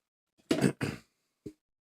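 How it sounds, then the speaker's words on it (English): A person coughs and clears their throat: two rough, close bursts one after the other, then a short, softer cough a moment later, with nothing else around them. "sorry if I'm coughing and everything else"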